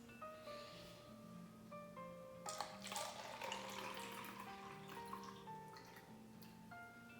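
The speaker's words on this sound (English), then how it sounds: "fill our bottle or cups a quarter of the way with water" Water is poured into a bottle or cup, a faint splashing trickle that swells for a few seconds under quiet background music.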